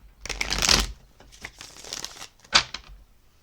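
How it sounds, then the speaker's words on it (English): A Crystal Vision tarot deck being shuffled by hand: quick, close, papery riffles in a few short bursts, with a brief pause and a sharp final flurry. "let's go ahead and pull some tarot cards"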